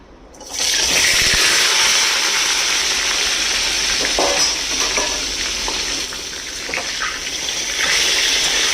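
Pointed gourd pieces hit hot mustard oil with a sudden loud burst of sizzling that holds strong and steady, crackling close by with a few stirring scrapes, and no one speaks.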